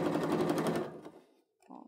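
A sewing machine stitches fabric for an insulated tote bag, a fast rhythmic mechanical rattle that runs for under a second, slows and stops, followed by a faint short clack.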